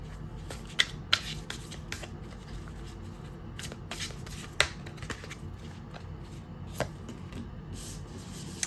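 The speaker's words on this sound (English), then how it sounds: "I'll go ahead and do shuffle on camera" Tarot cards are shuffled repeatedly nearby, crisp riffling bursts and taps arriving in an irregular rhythm over a quiet background.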